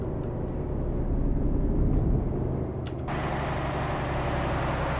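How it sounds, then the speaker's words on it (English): Air brake hiss and steady engine drone from a Volvo truck in Euro Truck Simulator 2, a constant low rumble with a sharp pneumatic burst near the end before the idle settles. "Oh, it's got a nice sound, this truck."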